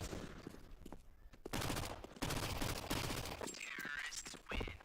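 Pistol shots ring out in a Counter-Strike match between Astralis Talent and Preasy, sharp cracks scattered among dense game noise and a busy, loud background, with voices underneath.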